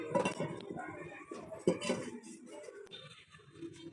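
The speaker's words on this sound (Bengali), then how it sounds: "এবার আমি একটা ননস্টিক প্যান বসিয়ে দিলাম" A nonstick pan is set down on a kitchen stove, giving a couple of soft metallic knocks and light clatter close by, amid faint kitchen handling noise.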